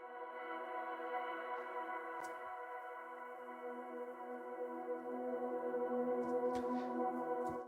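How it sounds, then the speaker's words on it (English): A Diva synth preset plays a sustained ethereal drone pad, a steady layered tone that holds throughout with slow shimmering movement. It is soft and heard alone, with a few faint airy swells near the end. "So for this one, I started off with a bit of a drone pad."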